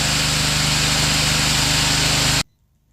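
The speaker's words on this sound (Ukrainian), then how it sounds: "працює генератор" A backup generator runs at steady full roar with a strong low hum for over two seconds, then abruptly stops.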